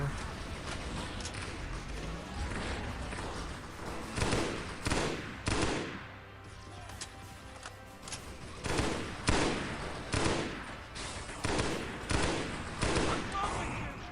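Grenade launcher fire in the Halo SPV3.2 game comes as repeated bursts of explosive shots in irregular clusters over a continuous backdrop of game sound.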